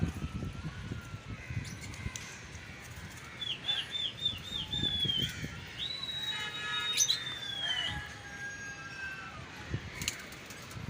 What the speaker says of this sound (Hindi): ये उनके कबूतर हैं